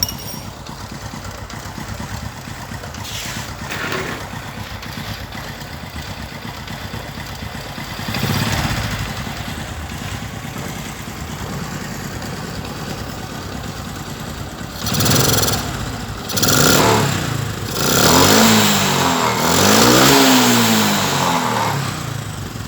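Engine running on a CNG gas converter, idling steadily and then revving in several rising bursts near the end, close and loud with no talk.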